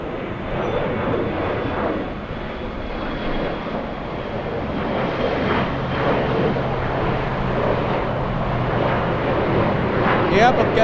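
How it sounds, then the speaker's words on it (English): A Fiji Airways airliner landing on the south side at LAX, a continuous broad jet engine roar that holds steady and swells slightly toward the end, heard from a distance. "This is Fiji landing in the south side."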